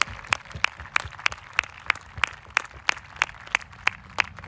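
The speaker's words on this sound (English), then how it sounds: "Let's give them a good round of applause." Sparse, evenly spaced handclaps ring out at a Vietnam veterans memorial ceremony, a few sharp, distinct claps each second, fairly faint and set against quiet surroundings.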